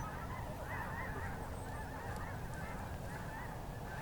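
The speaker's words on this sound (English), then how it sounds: "Makes me happy to see a whole group of geese, flock, flying in the air." A flock of geese honks steadily while flying overhead, the calls layered and continuous over a dense, noisy outdoor background.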